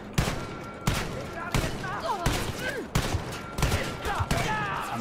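Gunfire in the shooter game Wolfenstein Youngblood: a rapid series of sharp, loud shots in quick bursts, with game effects and voices in between.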